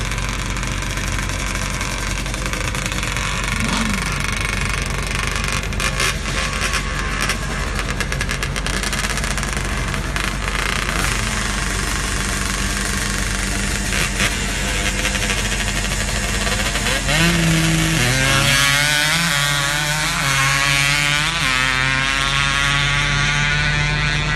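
Motorcycles sit at 300-foot sand drag time trials, their engines idling with a rough, knocking rumble before the revs climb sharply toward the end over steady ambient noise.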